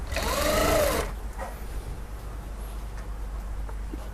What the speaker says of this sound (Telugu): ఇలా సన్నగా మడిచి కుట్టేసుకుందాం ఫస్ట్.